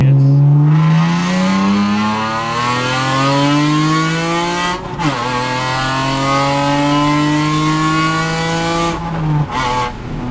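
A 2020 Toyota Supra's engine revs loudly and climbs steadily through the gears while driving, with two clear shifts breaking the rising tone before it pulls again.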